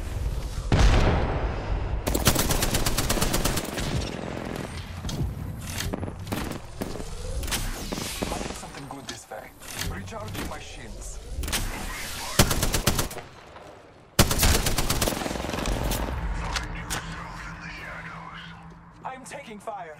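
Apex Legends gunfire, with repeated bursts of automatic fire and sharp single shots over a rumbling battle, loud and near with quiet gaps between volleys, while a low voice speaks underneath.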